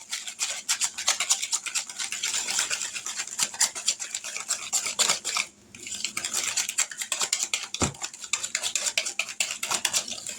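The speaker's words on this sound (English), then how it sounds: "Try to mix this where I can get all those little bitty lumps out of it." Utensil scraping and clinking against a bowl while corn bread batter is stirred to work out lumps, steady rapid strokes close up with a brief pause midway.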